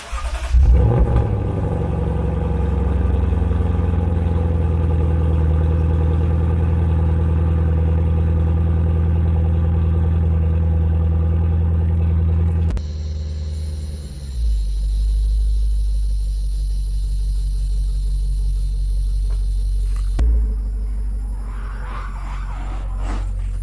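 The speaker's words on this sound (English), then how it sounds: "little cold start for you guys" A Lexus IS500 cold starts inside a garage, its engine roaring into a loud, steady high idle, then settling to a lower, deeper rumble about halfway through, with a brief blip of revs near the end.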